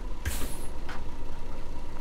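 Air brake on a coach in Fernbus Coach Simulator releases a short, sharp hiss, then a softer second puff, over a steady low engine idle.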